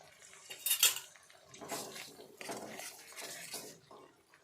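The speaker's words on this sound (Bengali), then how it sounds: "বাটির ভেতরে সামান্য জল গুলে সেটাও মশলার সাথে দিয়ে মশলাটা ভালোভাবে নেড়ে চেড়ে নেব।" A spoon mixes turmeric and chili spice paste with a little water in a bowl for a pabda fish mustard-poppy curry, with close clinks and scraping that come in uneven bursts.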